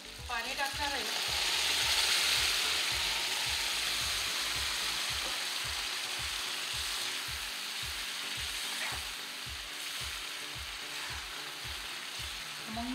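Half a bowl of hot water added to a sizzling tempering of potato and brinjal curry in a pan, a loud hiss that settles into steady bubbling, with a rhythmic stirring clack throughout.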